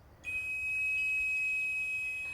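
A metal whistle blown in one short burst gives a shrill, piercing single tone that starts abruptly and holds steady at close range for about two seconds, with nothing else heard.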